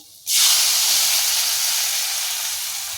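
Fresh tomato gravy hits a hot pan and erupts into a loud, sudden sizzle that holds as a bright steady hiss, easing only slightly over a few seconds.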